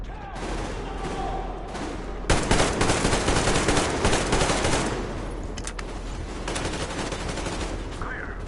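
Covering gunfire in a video game, a dense sustained rattle of automatic weapons with sharp bursts, loud and continuous with no voices.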